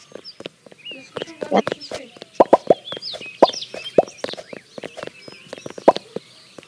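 Chicken clucking in a video game about robbing a resort: a run of short, sharp clucks at irregular intervals, fairly close, mixed with other busy game sounds.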